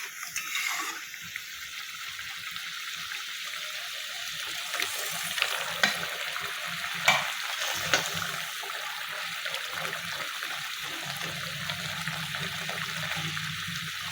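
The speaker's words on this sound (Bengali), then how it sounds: "ঝোল ফুটে গেছে। দেখুন এই মধ্যে আমি পটলগুলো আবার ছেড়ে দেবো।" Pointed gourd bubbles and sizzles in boiling gravy, a steady soft frothing hiss with occasional stirring clicks and scrapes, close and fairly quiet.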